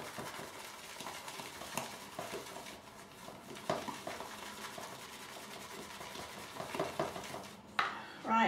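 A synthetic shaving brush swirls soap in a bowl to build lather, giving a steady wet rubbing and swishing texture with light clicks against the bowl, close and continuous.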